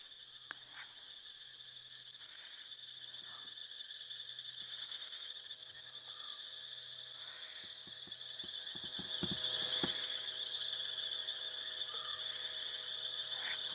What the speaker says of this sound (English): A lot of what you're hearing now, though, is rain frogs.